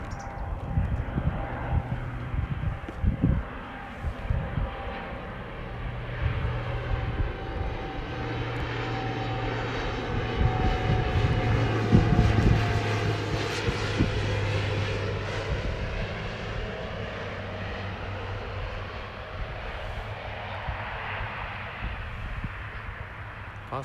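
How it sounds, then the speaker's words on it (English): An airplane flies over a park in Tokyo, its engine drone rising slowly from a distant hum to a loud, broad roar at its nearest pass before fading away again over nearly half a minute, with faint outdoor background. "I think an airplane is coming."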